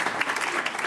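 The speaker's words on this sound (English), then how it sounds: "Let's give these folks a round of applause." Sustained applause from a conference audience at a broadband summit, steady clapping across the whole short moment with no gaps.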